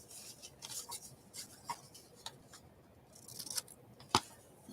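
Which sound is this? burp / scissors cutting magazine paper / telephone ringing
scissors cutting magazine paper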